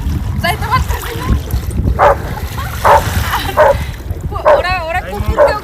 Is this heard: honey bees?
no